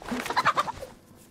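A chicken in the survival game DayZ gives a short run of clucking calls, near and fairly loud, fading out after about a second.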